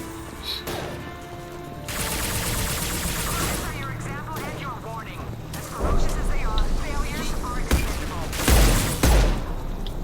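Concussive shots and missile explosions go off in Mass Effect 2 combat, loud booming blasts and rattling gunfire layered together, with heavy detonations near the end and voices talking over the action.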